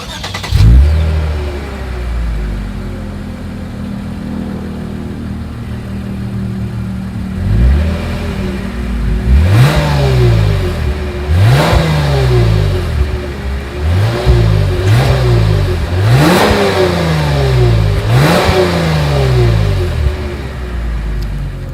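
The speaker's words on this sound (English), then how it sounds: "As always, here is that exhaust clip." A 2020 Lexus IS 300 F Sport idles, then its exhaust, exiting through chrome-tipped rear outlets, is revved in a string of sharp, loud blips that rise and fall back, heard close and on its own.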